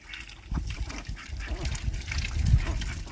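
Ducks and ducklings in a backyard pen give soft, close quacks and muffled chatter alongside splashing and shuffling, continuous through a short stretch.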